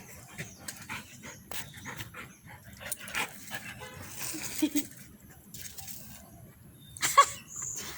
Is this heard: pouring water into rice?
no